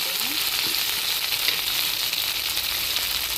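Onions sautéing in a pan for a ladies finger stir-fry, a loud, steady, unbroken sizzle of hot oil close by with a faint stir or two.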